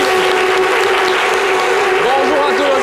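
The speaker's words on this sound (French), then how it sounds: "Applaudissements pour Lélo également." A studio audience claps loudly and continuously throughout on a French-language live television show, with a voice speaking over the dense applause.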